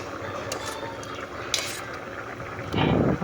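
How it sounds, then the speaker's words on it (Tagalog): Stirring creamy macaroni fruit salad in a pot, with soft scraping and clinking of a utensil against the pan and a louder scrape near the end. "Kaya kailangan natin haluin yan."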